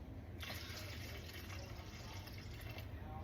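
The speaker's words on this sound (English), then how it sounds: "I'm going to be putting in 650 grams of water." Water pours steadily into a bowl as sourdough bread dough is prepared, a continuous close splashing rush that holds at an even level throughout.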